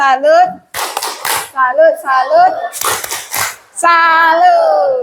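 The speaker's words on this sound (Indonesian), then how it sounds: "Kita tepuk salut" Schoolchildren in a science class clap a rhythmic salute pattern, two sharp bursts of quick, loud claps separated by a teacher's and pupils' chanting voices, with more voices following at the close.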